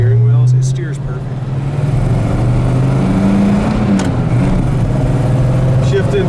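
A 1958 Studebaker Silver Hawk engine accelerates hard to 3,500 RPM and shifts gears, a loud close rising drone that dips at the gear change and climbs again, under someone talking.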